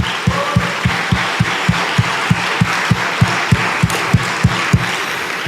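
A church congregation claps in unison, a steady rhythmic beat of about three claps per second, loud and close, over a low murmur of the crowd, with no talk.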